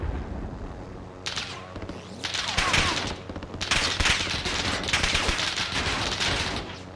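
Gunfire in the Warzone video game, with bursts of rapid automatic shots and sustained firing that grow louder and denser midway, under faint background voices.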